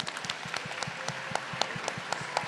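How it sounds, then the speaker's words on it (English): Audience at a community closing event clapping in a scattered, fairly faint round of applause, individual claps distinct and irregular. "Give a huge round of applause to Code Tenderloin"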